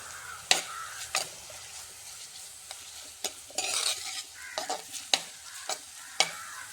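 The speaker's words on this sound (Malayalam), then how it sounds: "ഉള്ളി ഒന്ന് വഴണ്ട് വരുന്നത് വരെ നമുക്കൊന്ന് ഇളക്കി കൊടുക്കാം" Onions being stirred and sautéed in a pan for fish curry, with a soft steady sizzle under repeated sharp scrapes and clinks of a spoon against the pan, close and fairly quiet.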